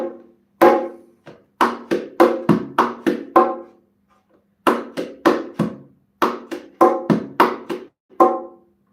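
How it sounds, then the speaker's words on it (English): Sharp bongo slaps and open tones ring out in quick bursts, close and loud, grouped into short rhythmic phrases separated by brief pauses. "we have an open slap or open tone, which we play like this without anything"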